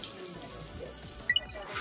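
Tap water runs steadily over a tote bag, a mum's bag used for years and stained dark, as it is rinsed in a sink; a continuous close splashing hiss with a couple of brief clinks near the end.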